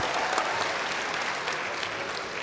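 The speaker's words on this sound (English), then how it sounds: "A round of applause" An audience at a grand finale event claps in a loud, dense burst of applause that holds steady throughout.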